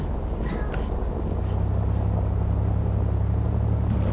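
A car driven in DayZ, the Arma II mod, gives a steady, fairly loud low engine rumble that holds unbroken the whole time, with no voices over it.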